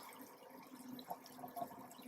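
Water runs from a Zuhnë gooseneck faucet into a deep, high-walled farmhouse sink, a soft, steady rush with a few faint splashy drips, heard alone and fairly quiet throughout.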